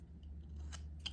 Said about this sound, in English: I'm just gonna cut a little notch